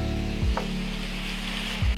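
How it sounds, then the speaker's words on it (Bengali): Masoor dal frying in a pan, a loud close sizzle with a low steady hum underneath and a couple of brief scraping stirs. "এবার আবার এই মসুর ডালটার সাথে পুরো জিনিসটাকে ভালো করে কষতে হবে।"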